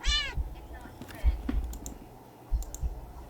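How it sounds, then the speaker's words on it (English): Deep cat meow in the game Do NOT Take This Cat Home, a single short meow at the start, followed by scattered clicks and faint game noises. "The cat meows at you again, but it sounds much deeper than earlier."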